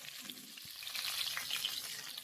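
Pointed gourd pieces fry in a little oil, giving a soft, steady, fairly quiet sizzle with light crackles and no talking.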